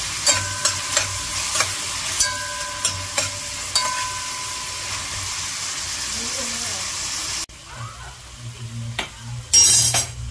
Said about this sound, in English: Yes, tomatoes sauté up nice.